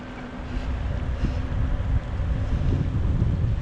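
Strong wind buffets the microphone while riding an e-bike outdoors, a loud, continuous low roar with gusty surges and no pauses.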